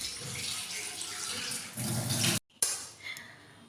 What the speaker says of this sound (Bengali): চিংড়ি মাছগুলো ভালো করে ধুয়ে নিতে হবে